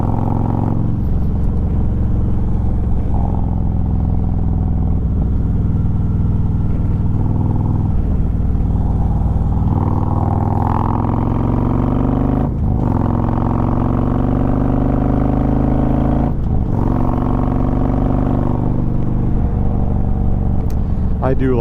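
A modified Harley motorcycle cruises on the interstate, a loud, steady, close engine drone with wind rush and gradual rises in pitch as it accelerates, running under continuous talk from the rider.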